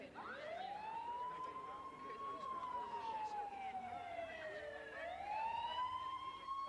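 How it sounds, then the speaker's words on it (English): An ambulance siren wails as the vehicle arrives at a field after a chemical explosion, its tone sweeping slowly up and down and then jumping back up. It is loud and steady over a low background rumble. "When the ambulance drove up"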